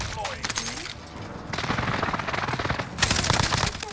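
Loud bursts of automatic gunfire rattle in the video game Warzone, coming in rapid clusters across the moment, while a player talks excitedly over the shooting.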